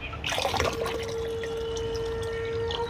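Mugs of water splash one after another into a 10-litre bucket, a burst of pouring and splashing near the start that settles into a steady trickle and rising filling tone, close by and clear.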